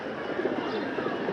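Pigeons coo softly in a low, rounded murmur, several short calls overlapping against a faint steady background.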